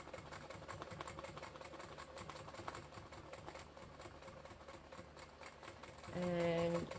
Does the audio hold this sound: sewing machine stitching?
yes